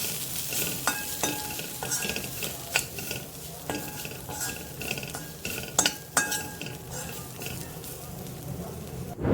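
A spoon scrapes and stirs garam masala, red chilli powder and coriander powder into fried onion in a pan, with a steady sizzle and sharp metallic clinks against the pan, close and fairly loud, no talking.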